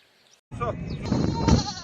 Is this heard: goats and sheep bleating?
yes